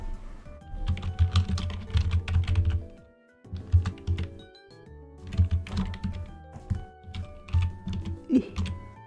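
Rapid typing on a computer keyboard, close and clear, in bursts of quick key clacks separated by short pauses, with soft background music beneath.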